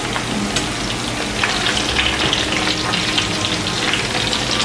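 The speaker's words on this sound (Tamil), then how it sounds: "4 நிமிஷமாக மீடியம் ஹீட்டில் வச்சு இதை பொரிச்சோண்டு இருக்கிறேன்" Brinjal pieces frying in hot oil over medium heat, a dense steady sizzle and crackle close by, with small pops scattered throughout.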